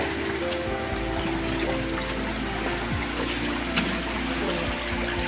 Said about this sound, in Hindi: ये साफ पानी बिल्कुल जा रहे हैं यहाँ।